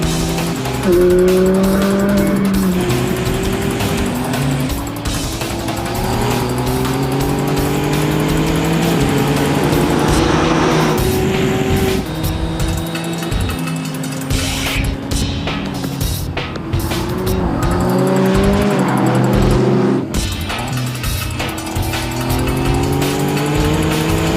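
McLaren race cars on the final lap of a race, loud close engines howling through gear changes with tire squeal and skidding, sustained and continuous.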